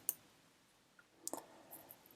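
A computer mouse gives a few faint, sharp clicks on a search button, isolated small taps against a quiet room background.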